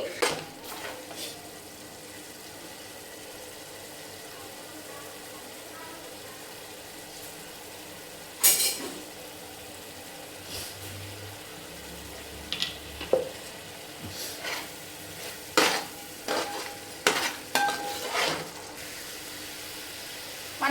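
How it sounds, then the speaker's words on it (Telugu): Ginger garlic paste fries in oil for a mutton biryani, giving a soft, low sizzle broken by scattered scraping and clinking strokes of a spoon stirring against the pan, with no talk. "ఈ నూనెలోని ఈ అల్లం వెల్లుల్లి పేస్ట్ని బాగా మగ్గనివ్వాలండి"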